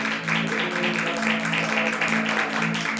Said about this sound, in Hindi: ताली बजा के हम प्रभु के नाम की तारीफ करें